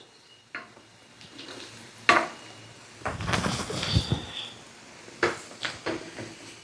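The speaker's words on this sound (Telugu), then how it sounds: "లో ఫ్లేమ్లోనే వీటిని మాడిపోకుండా డీప్ ఫ్రై చేసుకోవాలండి" Chana dal, urad dal, mustard seeds, cumin and dried red chillies deep-frying in oil over a low flame for a mango pickle tempering, heard close up as clattering spoon-on-pan stirs and a faint crackle between them.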